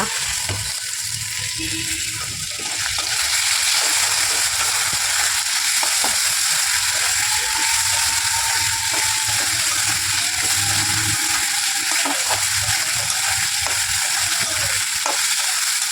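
Potatoes and spice paste of cumin, ginger and chilli with tomato frying and being stirred in a pan, a loud continuous sizzle with scraping strokes throughout.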